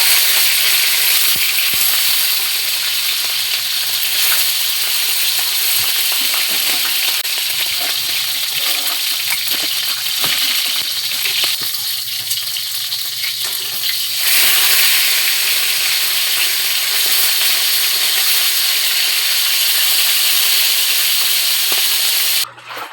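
Steady, continuous sizzling and crackling of fish frying in hot oil, close and fairly loud throughout, with occasional brief pops and a faint low hum.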